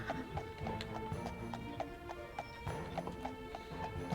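A cart horse clip-clops steadily along a road in the video game Daggerfall Unity, its hoofbeats in an even, repeated rhythm at moderate distance under a low background hum.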